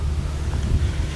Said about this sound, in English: And sorry for the wind. I know it's going to be windy right here.